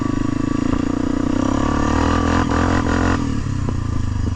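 An ATV quad engine roars steadily up close as it churns through mud, a loud continuous rumbling drone with rising revs and clattering, scraping noises in the middle.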